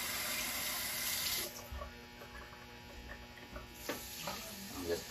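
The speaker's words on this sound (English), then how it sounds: "You wanna take 1 cup of water here." Kitchen tap water runs into a measuring cup, a steady hiss that cuts off after about a second and a half, followed by faint clinks and handling sounds at low level.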